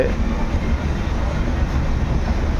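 The Vivek Express heard from inside while moving past Dimapur, Nagaland, toward Dibrugarh, a steady loud rumble and rattle of the carriage with faint rhythmic clacks underneath, no talking.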